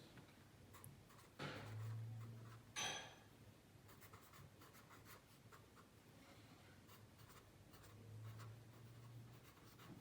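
A pen scratches across paper while a logarithm law is written out by hand, faint strokes in short bursts against a quiet room, with a couple of louder knocks or taps partway through.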